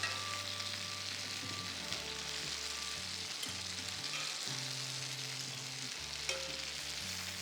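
Tomato grilling in a pan gives a steady, close sizzle and crackle, with occasional stirring or tool sounds and no voices.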